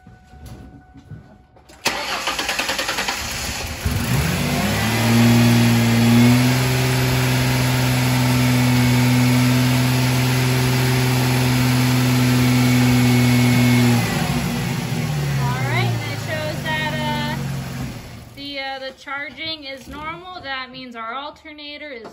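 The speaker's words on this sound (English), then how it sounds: "now we're going to go ahead and turn on the car and bring it up to 2500 RPMs" A car engine cranks and starts, then climbs to a steady raised rev of about 2500 RPM, holding a loud sustained drone before settling back down, while a voice comes in over the running engine near the end.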